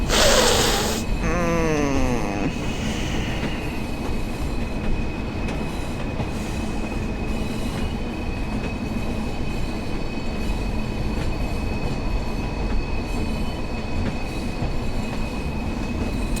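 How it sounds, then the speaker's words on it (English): A diesel multiple unit train brakes to a stop near Kirkham and Wesham, with a brief high squeal of brakes at the start, then a steady rumble of the carriage and rolling wheels that holds on without any talking. "Oh, the art of good stopping, braking times."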